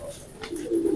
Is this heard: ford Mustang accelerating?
no